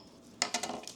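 A homemade lightstick insert crashes after being flung across a room. There is a quiet burst of small plastic clatters and clinks, several quick knocks in under a second, faint and somewhat distant against a low background hiss.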